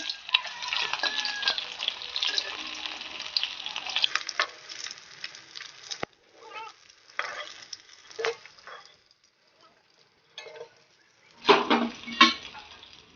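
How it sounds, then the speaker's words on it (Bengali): Fish heads fry in hot oil for a Bengali fish-head saag dish, a dense crackling sizzle at first that thins into sparse pops and spoon-and-pan clatter as they are lifted out, with a brief louder burst near the end. "তো আমি মাথাগুলো ভেজে নিয়েছি, আমি এবার মাথাগুলো উঠিয়ে নেব।"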